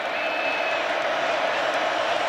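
Sustained crowd noise fills a college football stadium during Texas Tech at Arizona State, an even, far-spread cheering roar with occasional whoops rising out of the mass of voices.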